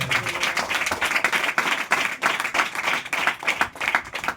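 Audience clapping loudly, a dense, sustained burst of many hands applauding together close by, steady throughout with no talking.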